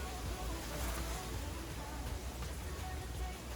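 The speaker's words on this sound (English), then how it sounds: "if you hear anything, it is the wind because it's super duper windy today" Steady wind buffeting the microphone, a continuous low rumble and rushing noise with no other clear sounds.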